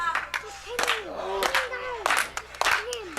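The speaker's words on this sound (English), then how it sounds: "And the crowd showing their appreciation." Wrestling crowd clapping, shouting and chanting after a near-fall on a deadlift German suplex with a bridge, bursts of claps and cheers under overlapping voices.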